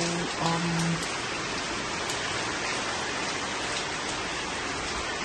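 Steady rain falls continuously on succulent plants, a dense hiss of drops on surfaces, with a few faint tones near the start and no talking.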